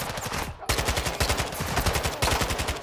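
Rapid automatic gunfire from a Call of Duty Modern Warfare 2 shootout, loud and close, with bursts of shots cracking in a steady stutter that pauses briefly before resuming.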